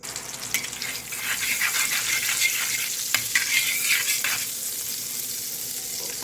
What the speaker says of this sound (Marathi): आता मी गॅसवर तवा ठेवलेला आहे तर मी तव्यामध्ये टाकून घेते एक चमच तेल आणि एक चमच बटर